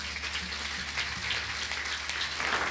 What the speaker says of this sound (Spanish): Le damos un fuerte aplauso a Él.